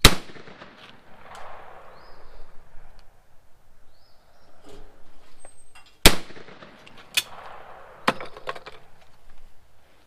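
A Caesar Guerini 20 gauge shotgun fired on an outdoor sporting clays course: two sharp, loud reports several seconds apart, followed by a couple of fainter cracks, over a quiet open background.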